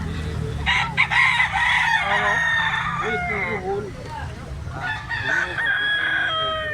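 A Black Hennie gamecock stag crows close by in repeated loud calls, with clucks between them and faint voices in the background.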